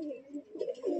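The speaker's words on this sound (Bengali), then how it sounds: "পায়রা হাতেই মস্তি করছে।" A green-eyed Madrasi pigeon held in the hand coos in low, throaty rolls, three or four close swells over a quiet background.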